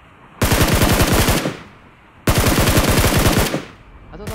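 Two loud, close bursts of rapid automatic gunfire in the mobile shooter BGMI, each lasting about a second with fast even shot rhythm, separated by a brief lull.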